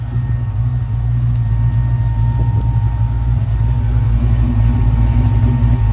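A V8 swapped into a vehicle that originally had a four-cylinder, fitted with an aftermarket cam, idling with a slightly choppy, lopey rhythm; a steady, loud, deep rumble runs throughout, close to the microphone with no talking.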